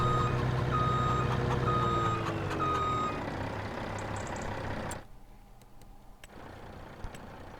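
Reversing beeps repeat steadily from a truck in the Farming Simulator 25 video game, with an engine droning beneath for about five seconds before everything drops to near silence with a few faint ticks.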